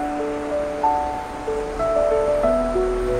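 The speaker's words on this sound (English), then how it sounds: "And then there's the river." A river flows through Korankei Gorge in Japan in autumn, with a steady, even rushing wash filling the whole clip and some faint tonal sounds drifting above it.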